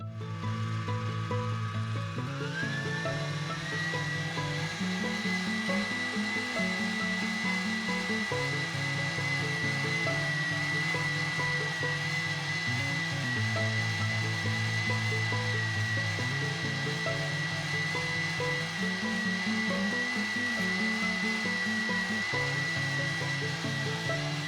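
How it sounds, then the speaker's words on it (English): Egg whites whipped with coconut sugar into meringue for a flourless chocolate cake, a steady electric mixer whine running continuously and loudly throughout with a slight pitch rise near the start. "we are going to create a meringue by gradually adding your coconut sugar to the egg whites while whisking."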